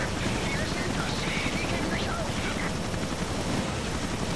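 Sustained rapid gunfire from the video game Resident Evil Revelations, a dense continuous barrage that stays loud and steady, with a voice talking over it.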